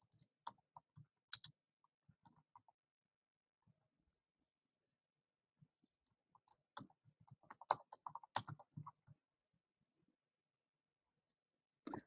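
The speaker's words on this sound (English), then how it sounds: "I'm going to type my code in." Typing HTML code on a computer keyboard, close, quiet key clicks arriving in short irregular bursts separated by pauses, with a denser flurry midway and a final few taps, no speech.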